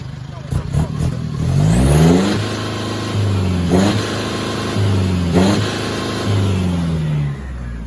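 An Isuzu 1900 cc pickup truck's engine revs up several times close by, rising and falling with a mechanical clatter.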